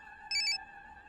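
A phone rings in a Hindi comedy film scene with one short, bright electronic trill that lasts about a quarter second over a faint steady tone. It is clear and moderately loud, and no one talks.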